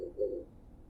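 Oriental turtle dove in a town park, one short, soft, low coo near the start, then quiet background.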